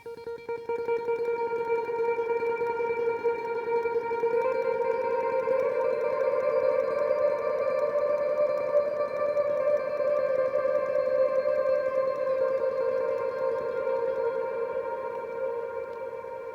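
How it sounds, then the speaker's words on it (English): Electric guitar played with a slide through a very big reverb, a slow melodic lead of long gliding sustained notes washing together, alone and moderately loud throughout. "I use a slide, you don't have to use a slide, and just with a really big reverb sound"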